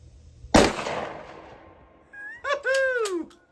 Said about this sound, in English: I'm going to shoot at that hole, a buckshot in the middle where that wad went through it.